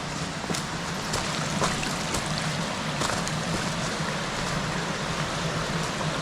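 A creek flows along a wildflower hiking trail at Carter Caves in Kentucky, giving a constant close wash of running water with a few faint ticks over it.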